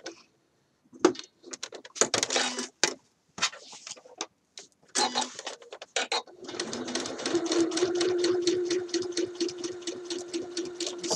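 A sewing machine stitches along red stitching on a Simplicity shirt dress, first in short stop-start bursts and then in a long, steady, fast whirring run, close and clear.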